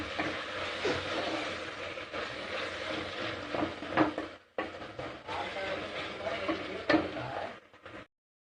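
Onion masala fries in oil for a mutton curry, giving a steady, close crackling sizzle with occasional spoon scrapes against the pan, briefly pausing midway before resuming and then cutting off.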